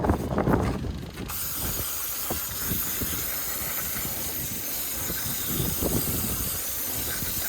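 Aerosol spray cleaner hissing during van repairs, a steady broadband spray that runs continuously for several seconds at close range with no talking.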